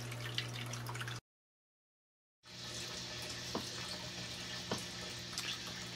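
Water flooding a hydroponic flood table in an outdoor growing setup and then draining out, a steady close trickle and gurgle with a few drips, broken by a brief silent gap.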